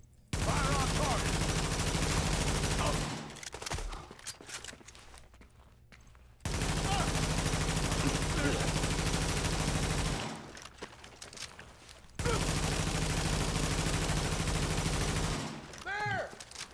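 Sustained bursts of rapid video game gunfire in blocks of several seconds, separated by quieter gaps, with a voice talking over the shooting.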